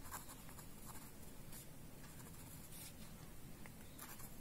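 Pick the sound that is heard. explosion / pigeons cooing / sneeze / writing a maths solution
writing a maths solution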